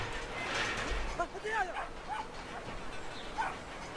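Dogs in the video game Brothers: A Tale of Two Sons yip and whimper in short, scattered bursts over a noisy game background, fairly faint and mid-distance.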